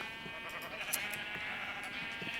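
Sheep in the Minecraft server RisKCraft SMP give faint, scattered bleats over a steady background hum, with no talk.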